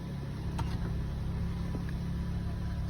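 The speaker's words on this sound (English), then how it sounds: "warming up the engine." A Volkswagen Vento 1.0 L engine idles steadily while warming up, a low continuous rumble heard from inside the car with faint clicks over it.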